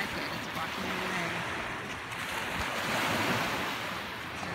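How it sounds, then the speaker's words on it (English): Ocean waves breaking on a shore, a continuous loud wash of surf mixed with wind buffeting the microphone, heard up close. "those waves are getting it."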